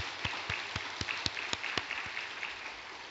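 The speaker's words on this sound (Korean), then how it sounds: "우리 토스트 전도단을 위해서 격려 박수 나십니다." Church congregation clapping in encouragement for a toast evangelism team, a fairly faint, sparse applause with individual claps standing out in a loose rhythm, no voices over it.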